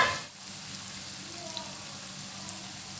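Chicken for a dhaba-style karahi fries in hot oil with a steady, soft hiss and fine crackle, faint and even after a brief louder start.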